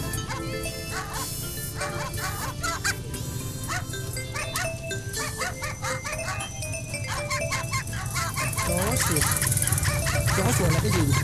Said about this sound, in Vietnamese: Chó sủa là cái gì?